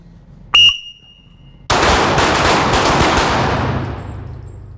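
Rapid gunfire as a shooter dumps a full magazine during a handgun shooting class in Terre Haute, Indiana, one sharp shot first, then a dense, loud burst of rounds ringing off over several seconds with no talking.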